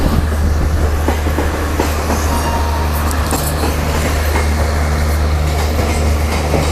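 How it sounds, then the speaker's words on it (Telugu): A Mumbai–New Delhi Tejas Rajdhani superfast express rolls past at a station, a loud, steady close-up roar of wheels and carriages with faint rhythmic clatter throughout. "సో ఏదో ట్రైన్ ఐ థింక్"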